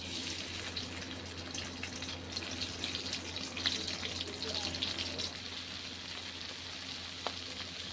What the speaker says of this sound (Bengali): এই চিংড়ি মাছটা এখন ভেজে নিচ্ছি